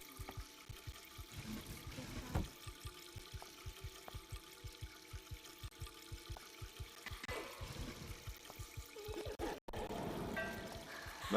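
Water running from several taps in the video game Shadow Detective: a constant trickling, pouring wash over a steady rhythmic low beat, with a brief gap and a fuller burst of water near the end.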